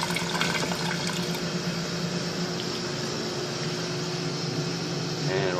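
Water drains steadily from a boiler drain line just cleared with CO2, a continuous close rushing wash that stays even throughout with no talk over it.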